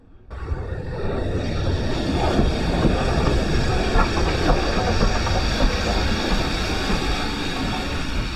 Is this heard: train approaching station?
yes